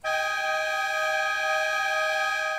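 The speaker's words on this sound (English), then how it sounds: "That's the sound of Irving's lightning protection system at the Cimarron Aquatic Center" A steady electronic lightning warning alarm at the Cimarron Aquatic Center outdoor pool in Irving, several pure pitches held together without a break, sounding continuously for a few seconds.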